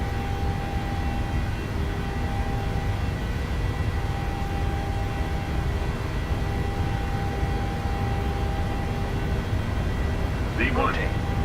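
Airliner engines at takeoff power in Microsoft Flight Simulator, a steady loud roar filling the whole stretch without letting up, with a brief rising whine near the end.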